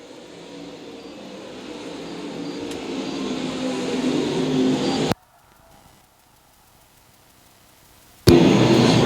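Race cars run down the back straightaway, their engine roar building steadily louder. The sound then cuts to near silence and suddenly returns at full, close volume.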